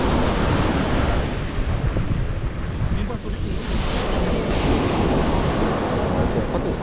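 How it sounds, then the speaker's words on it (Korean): Sea waves roll onto the beach at Nice in a loud, continuous roar of surf, with heavy wind buffeting the microphone throughout. "아, 저 파도 장난 아니다."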